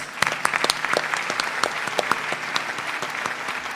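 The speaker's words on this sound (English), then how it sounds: "A big round of applause for our vocalist." An audience claps for the vocalist at a Bharatanatyam arangetram dance recital, with dense, steady applause throughout and no voices heard over it.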